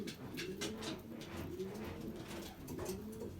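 A Lambrechts racing pigeon coos softly in a breeding loft, its low, rolling murmurs repeating faintly against a quiet background.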